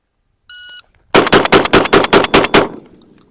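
A Mossberg 940 Pro semi-auto shotgun fires eight rapid, evenly spaced shots in a speed drill, loud and close, each blast sharp and booming. A short electronic timer beep comes just before the string, with a brief fading echo after the last shot.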